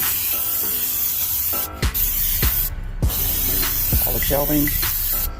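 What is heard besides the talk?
spraying Pam cooking spray inside a Pellet Pro smoker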